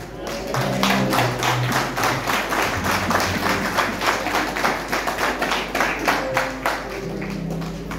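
A church congregation claps steadily in rhythm to acclaim the Holy Spirit during a French-language worship service, loud and continuous, with voices talking and singing underneath.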